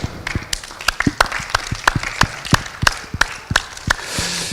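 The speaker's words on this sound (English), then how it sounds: "if we can give me a big round of applause" Hand clapping from a small group at a professional boxing press conference, with distinct, separate claps in a loose, uneven rhythm rather than a full wash of applause, fading out near the end.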